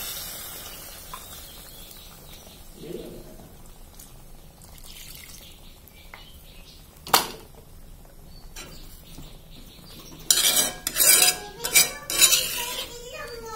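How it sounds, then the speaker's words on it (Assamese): Water is splashed into a pan of fried drumsticks cooked with mustard paste and stirred, with metallic scrapes and clinks of a spoon against the pan rising to a busier, louder burst of stirring near the end. "ভাজা হৈ গ'ল এতিয়া পানী দি সজনাখিনি সিজিবৰ কাৰণে"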